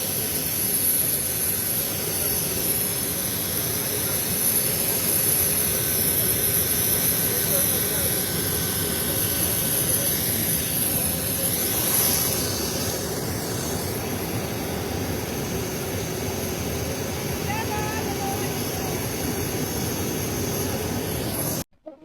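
Learjet jet engine running on the ground before departure, a loud, steady roar with a high whine that holds unbroken for over twenty seconds before cutting off abruptly at the end.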